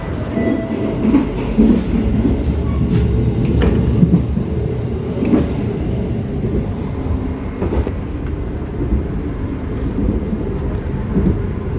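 A KA Lodaya passenger train sits at or pulls out of an Indonesian station, giving a loud steady low rumble with occasional clanks and squeals, close by and without speech.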